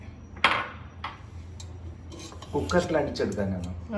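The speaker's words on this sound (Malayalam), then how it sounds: "ആദ്യം തന്നെ നമുക്കിതൊന്ന് വേഗം വെക്കാം, ഈ പൊട്ടറ്റോയും എഗ്ഗും കൂടെ." Baby potatoes and eggs go into a metal pressure cooker: one sharp, close metallic clunk, then a few lighter knocks and scrapes, and a voice begins speaking over the clatter.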